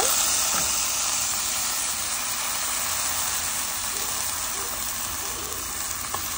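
Rice hitting a hot pot with ginger and garlic for pulao, giving a steady, loud, hissing sizzle that holds evenly throughout, close by with no talking.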